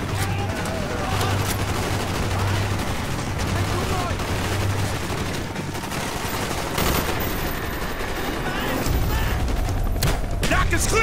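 Machine gun fire crackles through a Call of Duty: Black Ops firefight in a jungle village, with dense, continuous bursts of automatic gunfire and booms under shouted talk.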